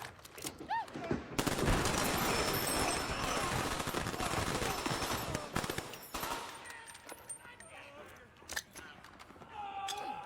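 Sustained burst of automatic gunfire with dense overlapping shots from a combat scene in the TV series Barry, loud and continuous for several seconds before thinning into scattered bangs, with an explosion likely among them.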